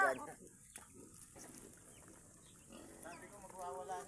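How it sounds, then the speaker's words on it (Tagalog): A pig on a mountain farm squeals in short, strained bursts, loudest near the end, amid chicken clucks and people talking close by. "Bakit nagwawala yung baboy mo?"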